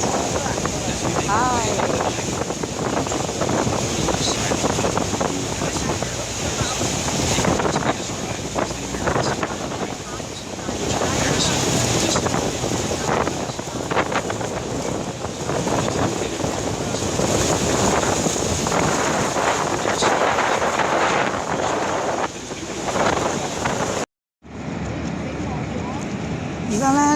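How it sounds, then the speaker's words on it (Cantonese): A tour boat out on the water near Niagara Falls, with steady wind buffeting and a broad rushing wash of water and engine noise throughout, briefly cutting out near the end. "船咧，我哋開始出發啦，近距離睇尼加拉瓜大瀑布"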